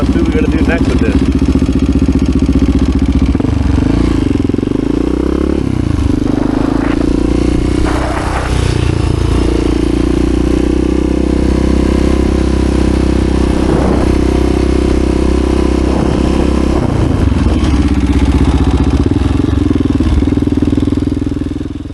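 A freshly built HRC XR628R motorcycle engine with dual carburetors, running too rich: a loud, close, continuous thumping drone with uneven surges and rough blips throughout, and voices talking over it.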